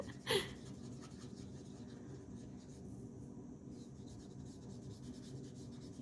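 An alcohol marker with a brush nib strokes across paper in a quiet room, a soft, faint, continuous rubbing with one brief louder scratch near the start.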